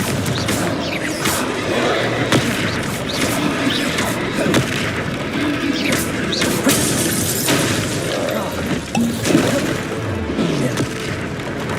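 Repeated blasting-spell explosions from Confringo in Hogwarts Legacy during a troll fight, sharp booms and crashes recurring throughout amid dense battle noise, with voices shouting over the action.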